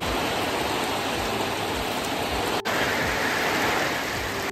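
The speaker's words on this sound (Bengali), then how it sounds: "দেখো বৃষ্টির সঙ্গে কি ভয়ানক তুফান" Heavy rain pours down in a fierce storm as a dense, steady roar that fills the whole clip, close and loud, with no talking.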